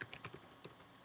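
Quick, quiet keystrokes on a computer keyboard as a terminal command is typed, a short run of separate clicks.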